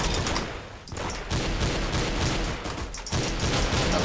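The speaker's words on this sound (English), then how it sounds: "Why do you have to give me the concussion rifle twice in a row?" Concussion rifle fire in a video game, a dense, continuous barrage of loud blasts and booms with a few brief dips, with no talk over it.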